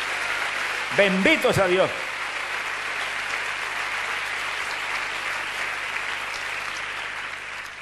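A church congregation breaks into sustained, broad applause that continues evenly for several seconds, while someone briefly speaks near the start.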